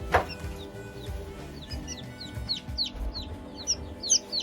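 Newly hatched Sebright chicks from an incubator chirp in quick, high peeps, scattered and repeated, over a low background of clucking fowl.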